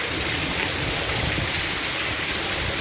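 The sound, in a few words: thunderstorm rain with hail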